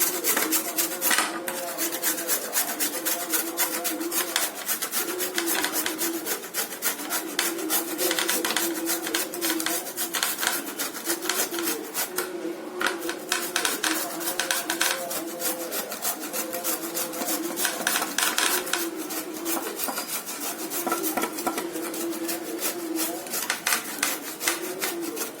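Continuous rapid scraping of a bottle gourd rubbed against a hand grater over a plate, a dense steady rasping rhythm held close and even throughout with no talk.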